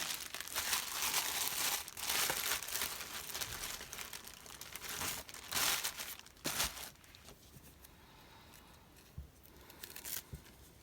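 Paper doilies crinkle and rustle as they are handled at a craft table, close and steady for several seconds, then fading to a few soft crackles.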